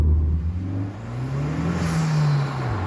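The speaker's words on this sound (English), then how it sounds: "This car has an intake, a Mishimoto intake. I'm not sure if you'll hear it." Honda Civic FK8 Type R with a Mishimoto intake accelerating, a steady low engine drone climbing smoothly in pitch, then easing off, heard from inside the car with no talking.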